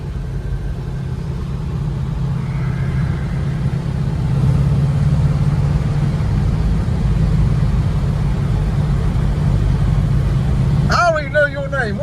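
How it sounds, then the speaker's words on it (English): A 1967 Chevelle SS 396 with a four-speed idles steadily in a low, rumbling drone, a loose tailpipe rattling faintly underneath while people talk nearby. "Sound like I think your tailpipe's loose. Sound like it's rattling back there."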